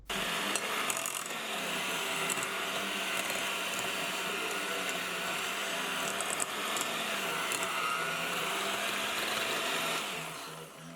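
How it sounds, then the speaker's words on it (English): An electric hand mixer beating butter and sugars for snickerdoodle cookie dough, a steady high whirring drone with faint rattling of beaters in the bowl, running continuously and then tapering at the end. "I'm going to start mixing my butter and sugars with my hand mixer"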